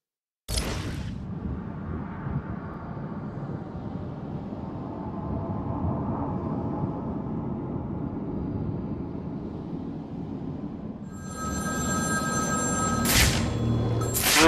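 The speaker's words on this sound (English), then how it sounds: "Find my phone, Batman, or the killing starts." A phone rings in the Batman: Arkham City video game, with bright bursts of ringing at the start and again near the end around a long, low rumbling stretch.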